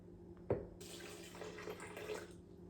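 Water pours into a Vitamix 5200 blender jar for a green smoothie, a short splashing stream at close range that begins with a small knock and runs steadily for about two seconds.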